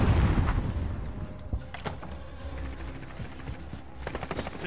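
Grenade blast in Modern Warfare gameplay: a boom near the start among scattered gunfire cracks and thumps, with repeated shots continuing through the rest of the clip.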